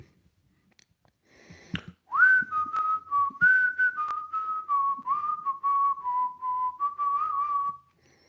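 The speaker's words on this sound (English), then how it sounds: "And I can whistle too while we just sort of wait." A person whistles a slow, wavering tune for several seconds, close and clear, after a few soft clicks and breaths.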